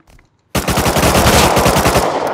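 AK rifle fire in the survival video game Rust, a loud rapid burst of automatic shots that starts abruptly after a brief quiet moment and continues steadily, close and alone.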